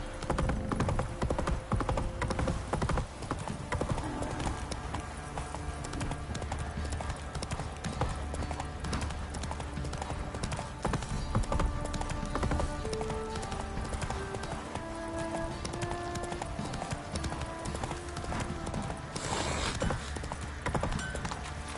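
Roach the horse's hooves clip-clop steadily in The Witcher 3: Wild Hunt on PS5, a continuous close rhythm over game ambience, with a faint whinny-like sound among the hoofbeats.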